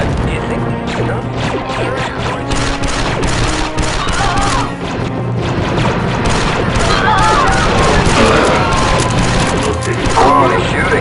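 Rapid blaster gunfire and explosions crash through a firefight in Star Wars Republic Commando, loud and dense throughout, with voices talking under the chaotic shooting.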